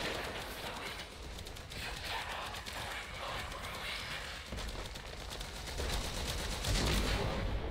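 Gunfire from a big gun in the video game Warframe comes as rapid, continuous crackling bursts that stay fairly steady and grow slightly heavier toward the end, with faint voices in the background.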